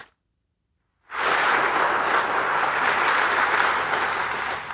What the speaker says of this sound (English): can you give a big round of applause to Alistair MacDonald for his talk